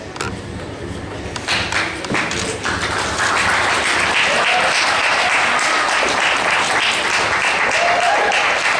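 Audience applause at a convention costume contest, a dense, sustained wash of many hands clapping that swells after a few seconds and holds steady and loud throughout.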